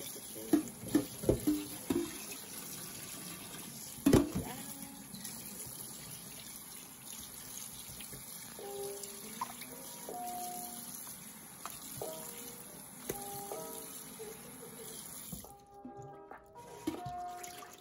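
Running tap water splashes softly and steadily over raw steak being rinsed, with a few sharper drips and clatters near the start and brief clinks later.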